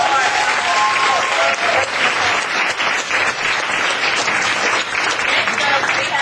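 An audience at a poetry reading applauds loudly and steadily, a dense wash of close clapping that runs the whole time, with some voices mixed in.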